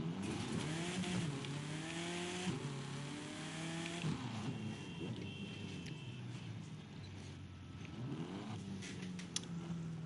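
A BMW driven in the racing game The Crew 2 gives a steady engine drone that rises through the gears with quick shift drops and brief tire squeal, played fairly quietly with no talk over it.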